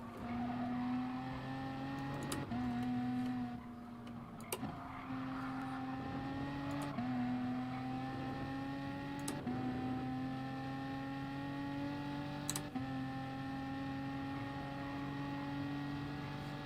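A BMW race car engine in Gran Turismo Sport at the Nürburgring 24-hour circuit drones steadily, its pitch climbing through each gear and dropping sharply at several early upshifts, with no one speaking.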